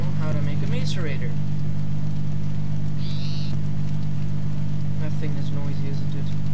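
A macerator machine from the Tekkit Minecraft mod running with a constant low droning hum and a brief higher electronic tone, while someone talks over it.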